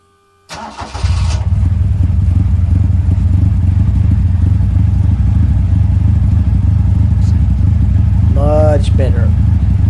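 A Toyota Celica TA22 with a 2TG engine and new exhaust cranks and fires up, then settles into a loud, deep, steady exhaust growl close by, with a brief voice near the end.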